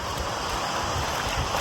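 A creek running high and slightly muddy after heavy rain rushes steadily, a continuous broadband wash of flowing water close by, with some wind noise on the microphone.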